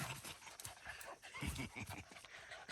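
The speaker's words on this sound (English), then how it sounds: "That's my fast dog and my old dash hound." A fast dog and an old dachshund pant and shuffle about nearby, with quick, uneven breathy bursts and soft movement noises. No voices are present.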